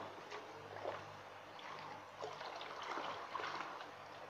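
Water is stirred to dissolve NPK fertilizer in about 16 litres, giving faint sloshing and trickling with soft irregular splashes over a low background hum.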